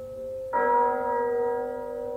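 A single bell tolls once from an audiobook reading of A Christmas Carol, a clear struck onset followed by a long sustained humming decay, alone with no voice over it.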